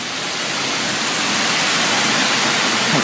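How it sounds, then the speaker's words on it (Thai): Steady rain falls on a Bangkok night street by Khao San Road, a dense continuous hiss that stays even and fairly loud throughout with no voices. "ฝนตก"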